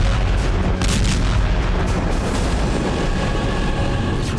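Drone explosions during an attack on energy sites in Russia's Ryazan and Rostov regions, heard as a dense, continuous roar of booms and blasts at loud level with no let-up.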